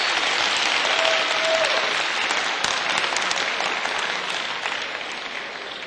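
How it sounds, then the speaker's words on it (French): A large audience at a youth event claps warmly for four competing teams, a sustained, even roar of applause that fades gradually toward the end. "je vous propose de les applaudir très chaleureusement pour les encourager à venir vers nous"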